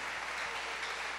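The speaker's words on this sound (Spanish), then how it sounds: "Un aplauso para el distrito 3-1." A church congregation at a Sunday afternoon service claps in a steady, dense wash of applause, faint and distant, with no voices over it.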